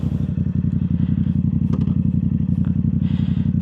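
A Yamaha YZF R7 fitted with a Yoshimura full exhaust idles loud and close with a rapid throbbing pulse, pulling away with light mechanical clatter and a few small knocks over the steady engine note.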